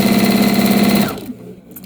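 Sewing machine stitching quilt fabric pieces for a beginner patchwork quilt, a loud steady whirring drone for about a second that then stops abruptly, leaving quiet room tone.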